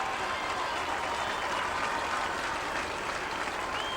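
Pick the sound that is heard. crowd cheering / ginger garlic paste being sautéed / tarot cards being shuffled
crowd cheering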